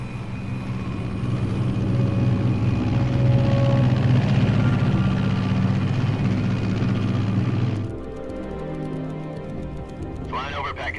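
Steady heavy drone of an aircraft in flight during a Metal Gear Solid 3 cutscene, loud and continuous for about eight seconds before dropping to a quieter cabin hum with faint mechanical ticking.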